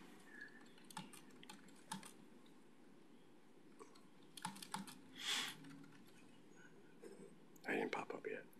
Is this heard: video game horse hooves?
no